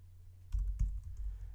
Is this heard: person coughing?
no